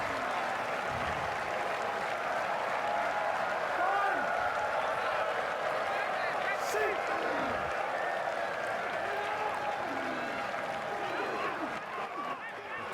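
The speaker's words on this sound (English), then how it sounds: "Crowd's getting right into it." Rugby stadium crowd at a Super Rugby match, Sunwolves against the Jaguares, cheering and applauding in a steady loud roar that holds for the whole stretch, with a commentator talking over it.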